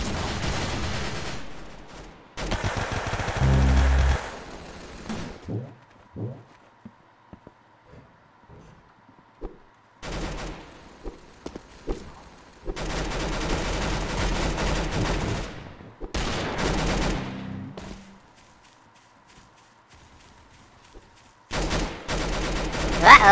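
Bursts of gunfire from the Roblox shooter game Arsenal, loud clusters of rapid shots separated by quieter gaps, with several sharp single cracks in between.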